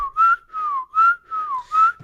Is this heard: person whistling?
yes